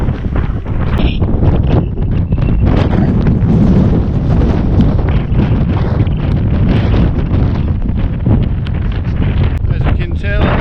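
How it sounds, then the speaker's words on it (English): Strong wind roars constantly across an open road in the Scottish Highlands near Kinlochleven, buffeting the microphone with loud, unbroken low rumble for the whole stretch. "As you can tell, it's been awfully windy."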